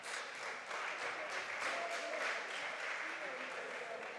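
An audience at a junior science and maths quiz championship gives faint, distant applause, an even patter of many hands lasting a few seconds with no clear voices on top.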